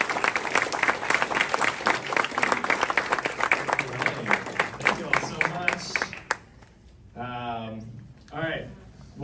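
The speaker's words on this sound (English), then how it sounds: "And everybody give them a big round of applause." A conference audience at Google NYC gives a round of applause to a panel of presales speakers, with brisk, crisp clapping for about six seconds before it stops and a voice begins speaking.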